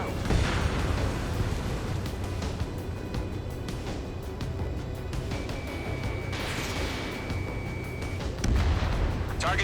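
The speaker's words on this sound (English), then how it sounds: "They've got their anti-air guns aimed right at us." Anti-air guns fire in the Ace Combat 7 combat flight game, repeated booming bursts over a constant jet roar, with radio voices talking at times.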